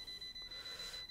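An ERGO FS 1677 electric fan with a fault gives off a steady, thin high-pitched electronic beep after being switched on, with a quiet pulsing rhythm underneath and no talking.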